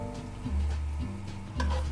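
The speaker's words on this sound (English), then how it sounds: "when your garlic starts to sizzle, which it pretty much is" Garlic and scallions frying in peanut oil in a wok over medium heat, a steady close sizzle with a few stirring scrapes and clinks, no talking.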